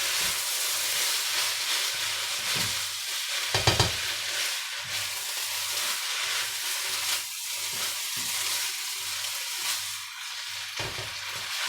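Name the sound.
stirring Indonesian nasi goreng fried rice with prawns in a pan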